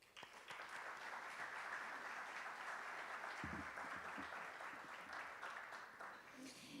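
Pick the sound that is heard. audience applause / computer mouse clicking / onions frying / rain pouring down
audience applause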